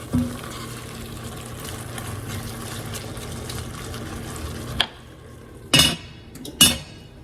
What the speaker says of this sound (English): Just give it a good stir. We're going to cover it up again for a few minutes.